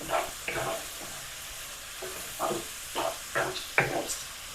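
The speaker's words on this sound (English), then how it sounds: "I'm going to add the garlic and ginger" Garlic and ginger stirred into onions frying for a turkey and chickpea tikka masala curry, giving a steady soft sizzle with several louder bursts of stirring and scraping, close and fairly quiet, with no one talking.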